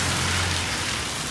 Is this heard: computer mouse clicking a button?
no